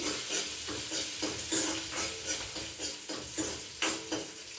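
A pan of frying food sizzles steadily while a utensil stirs it in a regular rhythm of scraping strokes, close and moderately loud, with no talking.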